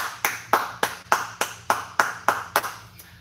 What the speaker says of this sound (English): Give yourselves a hand clap, everybody.